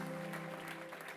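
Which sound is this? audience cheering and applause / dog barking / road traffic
audience cheering and applause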